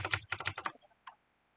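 Quick keystrokes on a computer keyboard, a short cluster of close, crisp clicks followed by a single isolated tap, quiet and with nothing else heard.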